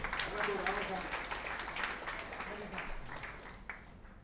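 Audience applause at a Tamil pattimandram debate event, a broad sustained wash of clapping that fades gradually, with crowd noise and a voice heard over it.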